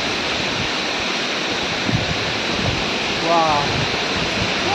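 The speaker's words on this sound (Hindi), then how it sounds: "पूरा पानी गिर रहा है हम लोग का इधर भी इस तरह भी पानी गिर रहा है" Tyrshi Falls in Meghalaya roars as a steady, dense wash of falling water, loud and continuous throughout, with a brief exclamation from a man partway through.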